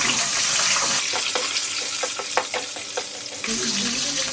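Whole spices, star anise, bay leaves and green chilies fry in hot oil in a pan with a loud, continuous sizzle, broken by a few stirring scrapes and a fresh surge of crackling near the end.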